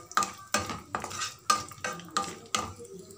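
Grapes, almonds and cashews frying on low heat in a pan for beetroot halwa, with repeated stirring strokes and scrapes of a spoon against the pan over a soft sizzle, close and moderately loud.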